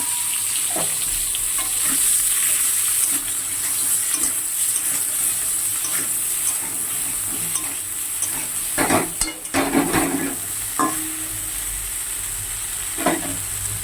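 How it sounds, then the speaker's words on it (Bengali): Cut eggplant pieces fry in hot oil in a pan, giving a steady close sizzle punctuated by scraping stirs and the occasional clink of a utensil against the pan. "বেগুনগুলো একটু ভেজে নেব"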